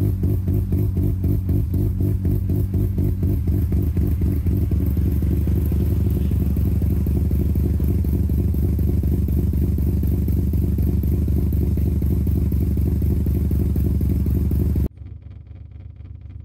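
A self-built naturally aspirated bridgeported 13B rotary engine in a Mazda RX7 idles after a semi-cold start, with a loud, rapid, choppy exhaust thump and a rattling buzz of glass over it, before cutting abruptly to a quieter, muffled idle near the end.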